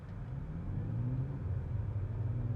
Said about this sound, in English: floor it in electric mode to see what happens, even with my left foot on the brake